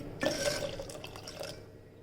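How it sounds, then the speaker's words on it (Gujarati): Water trickles and splashes faintly into a bowl of mashed potatoes and peas in a home kitchen, a short steady pour with light drips and no talking. "હવે એમાં થોડુંક પાણી નાખી દઈએ"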